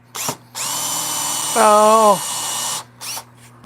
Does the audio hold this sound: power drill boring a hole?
yes